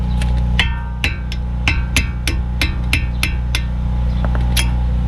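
A punch struck repeatedly with a hammer while removing front brake pad hardware on a 2009 Audi Q7 caliper, about a dozen sharp metallic blows in a steady rhythm over a constant low hum.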